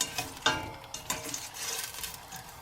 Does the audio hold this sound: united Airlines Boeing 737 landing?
no